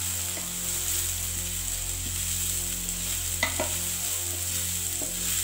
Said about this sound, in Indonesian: Lalu masukin jamur kancing yang tadi udah diiris-iris dan dicuci, tumis sampai jamurnya layu.